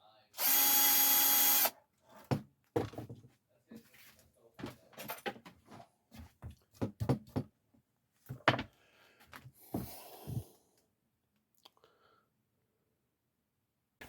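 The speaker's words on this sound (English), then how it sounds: "I took off this neck, and this part here, I sanded it in the center" A power tool whines loudly for about a second and a half while sanding the center of a Stratocaster-style guitar neck, followed by scattered handling knocks and clunks with a little quiet talk.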